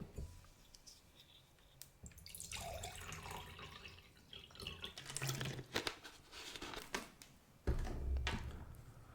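Water being poured splashes and trickles in uneven bursts, with wet drips and gurgles close by, fairly faint overall and no voices.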